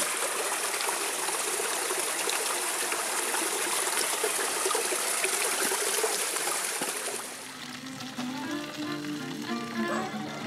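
Water from a village spring flows steadily and loudly nearby for about seven seconds, then the rushing fades to a softer trickle with some faint background sounds.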